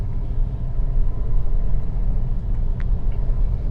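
A car rolls slowly through city signal traffic in second gear without using the clutch, heard from inside. A steady low engine and road rumble continues throughout, with a faint brief tick near the end.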